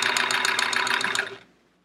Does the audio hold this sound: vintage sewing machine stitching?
yes